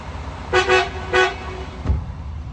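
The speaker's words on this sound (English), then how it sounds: "one thing I am very jealous of you is that you got an air horn." A truck's air horn blasts close by in two or three loud, brassy toots with short gaps, followed by a thud, over a steady engine and road rumble.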